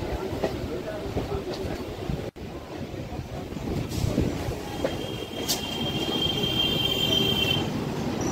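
A local commuter train rolls by on the line out of Kolkata station, a steady rumble of wheels on track with high metallic wheel squeals cutting in and out, and voices briefly audible.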